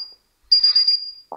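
An alarm system control panel gives a sustained high-pitched beep while being armed, a steady tone holding for about a second, then a short chirp right after.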